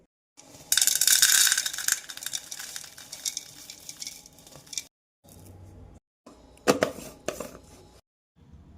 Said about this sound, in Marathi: आता हे गार झाल्यावर याची पावडर बनवून घेऊ